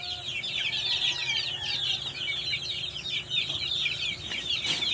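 Young chickens in a Filipino backyard cluck and chirp steadily in a busy chorus, close and moderately loud, with no talking.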